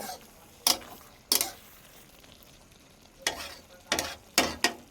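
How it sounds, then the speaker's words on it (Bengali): Potato and jackfruit curry with fried garam masala stirred in a pan, a faint sizzle under six or so sharp scraping clinks of the spoon against the pan at irregular intervals. "ভাজা গরম মশলাটা আমি দিয়ে দিলাম, ভালোভাবে নেড়ে নেব।"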